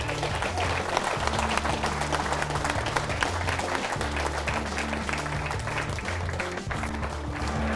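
A large crowd of about 15,000 applauds at North Sydney Oval, dense sustained clapping over a low tonal background, with the crowd noise steady throughout.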